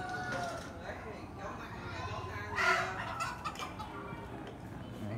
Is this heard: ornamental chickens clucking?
yes